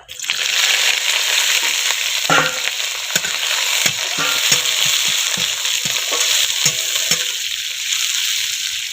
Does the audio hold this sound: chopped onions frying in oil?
yes